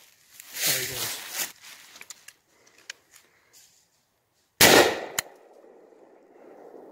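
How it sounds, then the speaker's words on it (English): Two booming blasts from a 10 gauge shotgun fired at a squirrel in winter woods, one early and one later, each a sharp loud report with echoing tail, separated by rustling and footsteps. "He got down on the ground and started running, so I shot at him."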